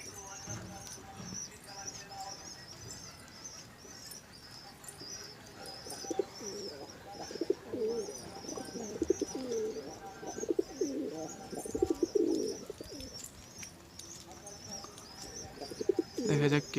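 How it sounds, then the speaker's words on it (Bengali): Rajshahi Giribaz pigeons fly overhead outdoors and give soft, low cooing calls in repeated bursts under faint high chirps, becoming more frequent and louder toward the end. "তার ঠিক উপরে আছে আমার 4টে কবুতর"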